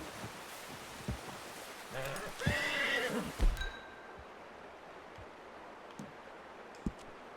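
A horse in the video game Red Dead Redemption 2 gives one loud, drawn-out whinny midway, with a few soft hoof clops and rustling around it in a quiet outdoor setting.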